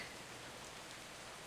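Steady rain hisses down as a dense, even wash of noise, fairly faint and unbroken, with no voices.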